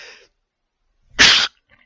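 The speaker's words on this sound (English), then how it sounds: "I need a sneeze." A single sharp, loud human sneeze bursts out close to the microphone after a brief pause, followed by silence.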